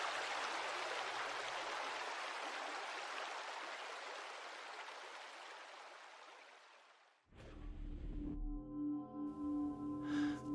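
A wide, shallow creek flows swiftly downstream in a steady broadband rush that fades slightly over about seven seconds, then cuts abruptly to unrelated tonal sounds.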